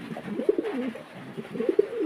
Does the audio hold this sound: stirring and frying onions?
no